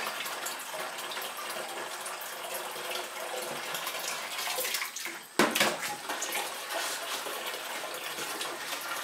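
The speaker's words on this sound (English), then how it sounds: "I partially fill them with water" Rainwater from a water butt runs steadily into plastic buckets, filling each about a third full for recycling pottery clay. The splashing gush is close and continuous, with a brief louder slosh partway through.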